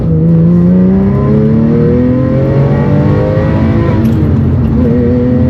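A Porsche 911 engine revving hard as the car accelerates, loud and close, with a rising, sweeping tone climbing through the gears for several seconds.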